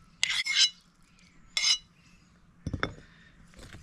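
Utensils clinking and scraping in a bowl while cheburek filling with butter is stirred, a few separate short metallic bursts with quiet pauses between them.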